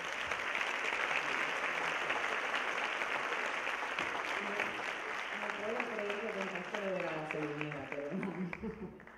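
Audience applause at a welcome address by a university rector, a dense sustained clapping for several seconds that thins toward the end as a voice begins speaking over it.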